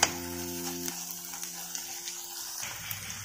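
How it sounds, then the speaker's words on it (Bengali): Ginger-garlic paste frying in a pan for a handi chicken curry gives a steady, soft sizzle that runs unbroken for a few seconds, with a faint humming tone at the very start. "আমি আদা রসুনটা খুব ভালো করে ফ্রাই করে নিয়েছি যেন কাঁচা গন্ধটা না থাকে"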